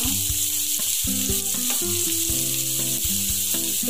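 Chopped onions with mustard seeds and curry leaves sauté in hot oil for a beetroot poriyal, giving a close, steady sizzle with crackling pops and the scrape of stirring throughout.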